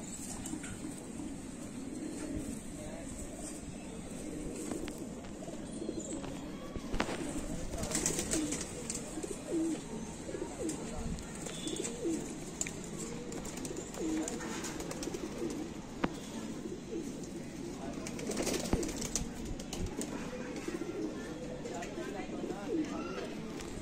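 Kamagar, Golden, Dub-Wale and Teddy pigeons at a breeder's loft in R.S. Pura, Jammu, coo in low, repeated throaty murmurs, with someone talking over them for most of the time.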